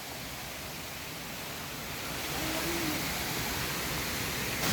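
The Kuang Si waterfall in Luang Prabang, Laos, pours water in a soft, constant rushing hiss heard from some distance. The roar stays steady and swells slightly partway through, with no talking.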